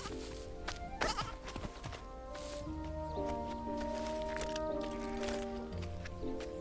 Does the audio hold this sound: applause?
no